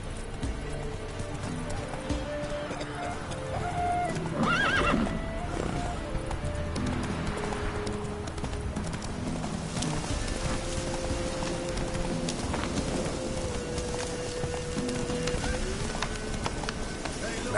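Roach, the horse in The Witcher 3, galloping with a steady rapid drumming of hooves, a short neigh partway through, under continuous game ambience and a rain-like hiss, with voices speaking over parts of it.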